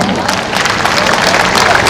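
An audience at a community talent award ceremony applauds to welcome an honored guest, dense continuous clapping with crowd murmur throughout.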